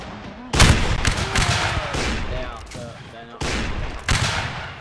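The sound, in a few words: musket gunfire in the video game North & South linebattle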